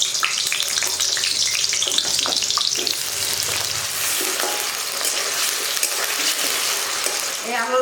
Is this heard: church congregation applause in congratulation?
no